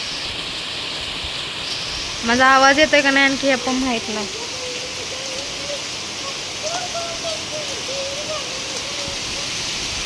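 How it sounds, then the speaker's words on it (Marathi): Heavy monsoon rain pours down in a steady, loud hiss throughout, while a person speaks briefly over the downpour and then stays quiet. "पावसानं लय जोर लावलाय लय जोरा जोरा द्यायला लागलाय"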